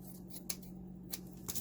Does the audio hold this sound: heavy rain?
no